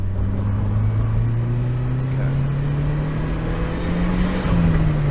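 A turbocharged car engine with a cold engine and stock setup pulls steadily from low revs, its loud droning note climbing smoothly for several seconds before a brief dip near the end, heard close from inside.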